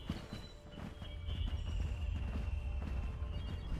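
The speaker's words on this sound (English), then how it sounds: "I can hear a lot of footsteps in the snow" Many footsteps crunching through snow in the video game Rune 2, a dense, continuous patter of steps under a steady low rumble, with no talk.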